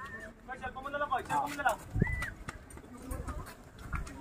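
Racing pigeons arrive at a rural loft on a race day, with wingbeats, scattered coos and soft thumps of landing under nearby people talking excitedly.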